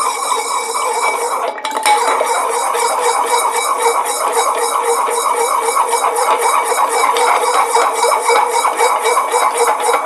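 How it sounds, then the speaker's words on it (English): Ice swirls in a glass mixing glass as a Manhattan is stirred, a steady close rattle and clinking that continues without pause, with one sharper knock near the start. "So when you're stirring drinks, it's important to go on the edge, right?"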